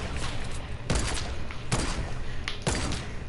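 Gunfire rings out in Fortnite as three or four sharp, loud bursts of shots roughly a second apart, each a quick cluster of cracks over a low, rumbling game background.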